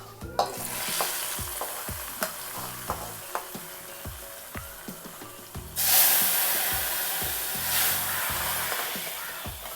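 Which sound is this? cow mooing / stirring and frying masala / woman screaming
stirring and frying masala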